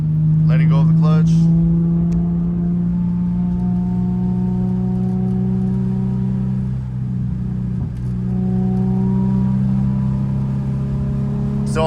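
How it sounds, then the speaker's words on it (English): Manual transmission car driven through the gears, its engine hum held steady near the mic, dipping briefly as the revs fall at a shift, with a person talking over it. "Clutch in, second gear. Clutch in, third gear, letting go of the clutch."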